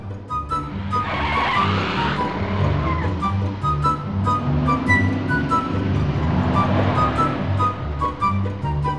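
A taxi chases a truck, its engine droning loudly and steadily up close while tires squeal and skid in two longer bursts, with no talk over the noise.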